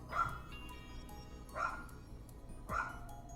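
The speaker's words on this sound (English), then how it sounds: "I have dogs barking." A dog barking three times at an even spacing of about a second, moderately close, with quiet gaps between.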